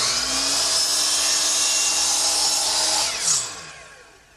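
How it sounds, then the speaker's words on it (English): A miter saw set at 45 degrees chamfering the edge of a wooden workbench, one sustained, loud high-pitched whine through the cut that ends with a brief surge and then spins down to quiet. "I'll do that right here on the miter box"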